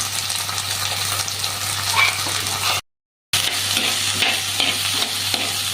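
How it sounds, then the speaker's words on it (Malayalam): Small onions and green chillies sauté in a pan, a dense close sizzle with scattered stirring scrapes, briefly cutting to silence midway before the frying resumes, with no voices. "ഉള്ളി നല്ലതുപോലെ നമുക്കൊന്ന് വഴറ്റിയെടുക്കാം"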